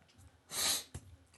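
One close, sudden sneeze, a sharp burst of breath followed by a short exhale, in a quiet indoor room.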